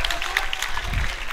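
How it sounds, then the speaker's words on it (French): An audience at a kickboxing world title bout claps in a brief, steady burst of many hands. "On peut les applaudir, s'il vous plaît."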